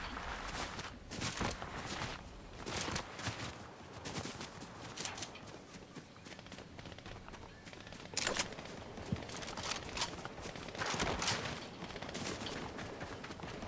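Gunfire from a fight in Fortnite, with repeated sharp shots in scattered bursts over a busy game soundscape with footsteps, some louder nearer cracks standing out.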